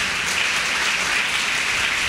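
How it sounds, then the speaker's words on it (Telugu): A congregation at a Holy Communion Sunday service claps loudly and steadily, a dense unbroken wash of applause filling the whole stretch with no speech over it. "చప్పట్లు కొడదామా గట్టిగా?"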